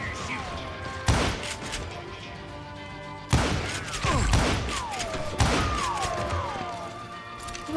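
Loud, booming gunshots from Call of Juarez: Gunslinger ring out about three times, each with a long echoing tail, over steady musical game ambience.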